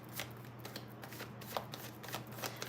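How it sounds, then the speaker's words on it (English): Tarot cards being shuffled and drawn by hand, a close series of soft riffling and flicking bursts in an uneven rhythm, quiet against a low steady hum. "Let me just get a couple more cards here."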